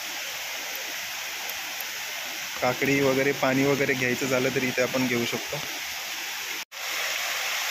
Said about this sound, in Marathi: किती असं विराट असं रूप घेतलंय धबधब्यानं